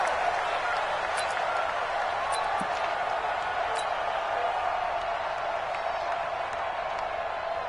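Stadium crowd noise in an NFL video game before a Carolina Panthers versus Miami Dolphins matchup, a steady, dense roar of cheering and applause that holds at an even level throughout.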